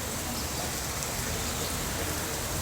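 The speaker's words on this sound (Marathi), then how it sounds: "पाऊस पडतो आहे आणि खूप छान अशी गार अशी हवा आहे." Steady rain falling outdoors in Virar West in the evening, an even, continuous hiss with no distinct drops standing out and no voices.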